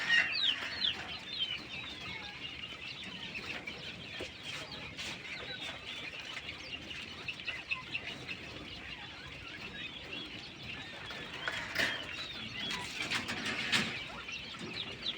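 King quails call from an enclosure, sharp chirps and clucking calls repeating steadily over a dense background of other birds, moderately close and continuous throughout.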